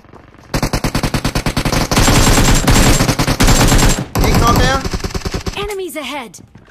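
Rapid automatic gunfire from a powerful weapon in a video game rattles in fast, loud bursts, a long sustained volley followed by shorter strings of shots, with a synthetic tonal effect near the end.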